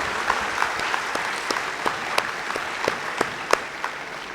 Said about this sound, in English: Let us give them a huge round of applause.